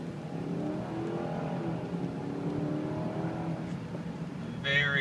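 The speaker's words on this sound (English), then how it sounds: "Go ahead and do one quick hard acceleration so you can see everything functions as it should." A Lexus LS430 sedan with 53K miles pulls hard under acceleration, its engine note climbing steadily in pitch at moderate loudness before a brief sharper surge near the end.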